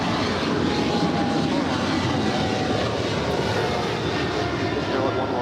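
An airliner departing a runway at LAX, its jet engines producing a loud, steady roar that fills the air without letup, with faint talk in the background.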